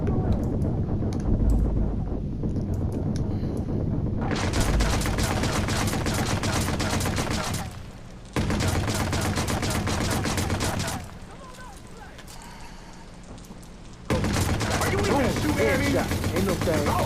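Gunfire in the video game Watch Dogs, loud dense bursts of rapid shots crackling in sustained stretches with brief lulls between them, with someone talking over the action.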